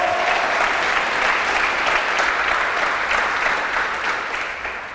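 A church audience applauds a preacher with dense, sustained clapping that begins at full strength and fades slightly toward the end.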